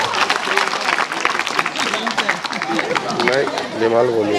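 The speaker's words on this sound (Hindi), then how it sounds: "तालियां बजते रहनी चाहिए भाई।" An audience at an award ceremony in a forest range breaks into applause, steady clapping blending with crowd chatter and a voice speaking over it.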